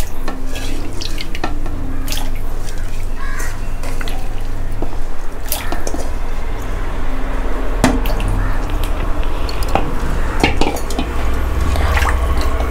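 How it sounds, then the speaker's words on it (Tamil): Small anchovies are dropped into lukewarm water while preparing a Tamil nethili fish curry, giving close wet sloshing, dripping and squishy handling sounds throughout. "நல்லா வெத வெதன்ற தண்ணியில் ஒரு டைம் மீனை போட்டுட்டு"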